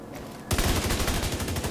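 An Eaglebearer assault rifle in The Division 2 opens up after a brief quiet moment, a rapid, loud, continuous burst of automatic fire with evenly spaced shots close up, no talking.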